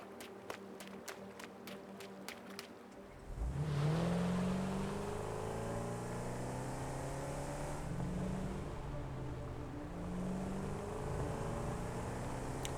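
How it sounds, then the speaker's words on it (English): In the video game Satisfactory, after a few sharp clicks, a car engine starts and hums steadily as it drives, with its pitch rising and falling as it shifts gears. "Go and pick up the car again."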